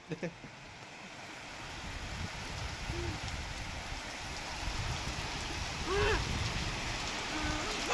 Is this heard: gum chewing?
no